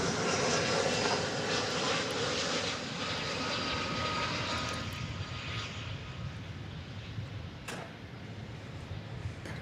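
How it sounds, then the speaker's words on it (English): A Korean Air Dreamliner jet taxis at DFW Airport toward a runway crossing, its engines giving a steady, loud broadband roar that holds throughout with a slight easing midway. "The big Korean Air Dreamliner is getting ready to cross over runway 18 left on its way to Terminal D."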